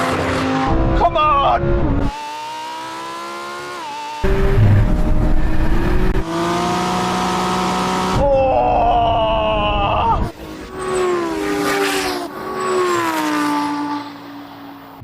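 A Lamborghini Huracan races a tuned R32 Skyline GT-R: loud engines wail and climb through the revs with abrupt shifts and changes in pitch, close and sustained, while a voice shouts briefly over the roar.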